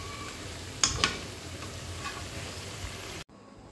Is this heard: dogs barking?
no